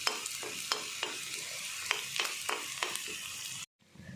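Onions fry gently over low flame in a pan, a soft continuous sizzle broken by a regular series of sharp scraping stirs, fairly quiet, with no talking.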